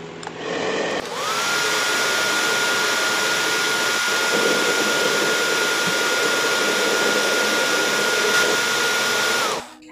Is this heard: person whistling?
no